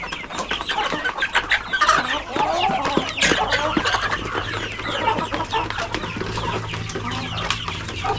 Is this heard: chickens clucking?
yes